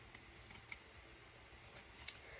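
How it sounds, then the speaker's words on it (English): Scissors snip through a thrift-store placemat of stiff fabric in a quiet room, a few faint crisp cuts heard close up with soft rubbing between them. "and I think I need to cut it."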